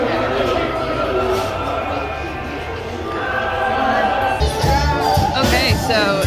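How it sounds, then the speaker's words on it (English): A dense Friday-night crowd at Disney's Animal Kingdom makes a continuous murmur of voices and footsteps, with a few louder nearby sounds toward the end. "this is the crowd on a Friday night"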